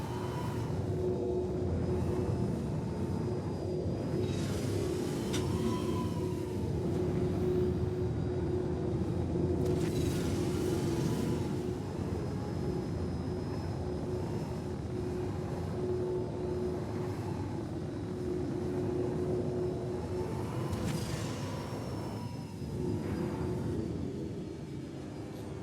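A steady, droning aircraft engine hum continues throughout a flight video game, with a constant tonal whine and occasional brief noise swells on top.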